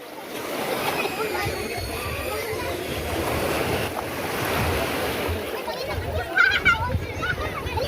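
Ocean waves wash and slosh steadily nearby at a white-sand beach with wind noise, while people talk and call out in Filipino over the surf.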